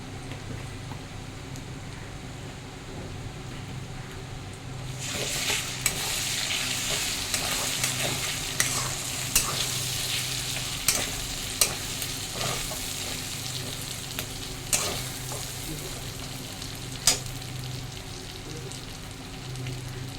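Onions fry in hot oil as ginger and garlic are added and stirred in, a quiet pan hiss that jumps to a loud, steady sizzle partway through, broken by sharp scraping clicks of the spoon.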